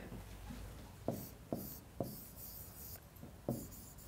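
A pen writes by hand on paper, a faint scratchy rubbing with a few distinct taps as strokes begin, quiet and close with no talking.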